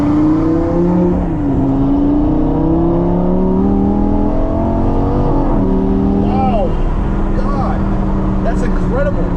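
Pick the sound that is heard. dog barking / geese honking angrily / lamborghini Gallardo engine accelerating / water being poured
lamborghini Gallardo engine accelerating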